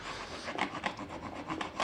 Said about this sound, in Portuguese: Eu vou lixar isso aqui tudo.